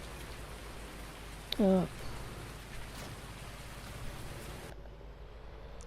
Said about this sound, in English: It's definitely heavy rain.